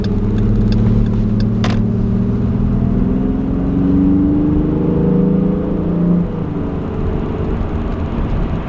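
A Dodge Durango V6 engine with a K&N intake hums and rumbles steadily while driving, with faint shifts in pitch as it accelerates, recorded close from inside the vehicle.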